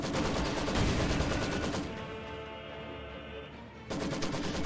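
A Raketenwerfer rocket launcher fires at a factory in the strategy game Reign 2, with loud, dense explosive bursts that ease into a quieter rumbling stretch before another heavy barrage resumes.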